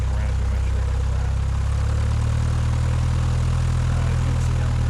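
A small airplane engine drones loud and steady in an airport traffic pattern, a continuous close propeller rumble with wind noise that shifts slightly in pitch, while a voice talks faintly underneath.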